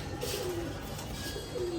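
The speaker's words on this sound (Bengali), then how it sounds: "পাঙ্খি একটা পেয়ার কবুতর আছে" A pair of pankhi pigeons coos at a farm, two soft repeated coos heard fairly close against quiet background noise.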